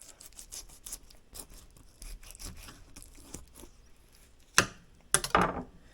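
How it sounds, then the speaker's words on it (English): A fillet knife cuts behind the fins of a walleye on a cutting board, with soft repeated rasping strokes followed by two sharp louder cuts near the end, close. "You want to come in behind both of these fins, cut towards the head on a slight angle."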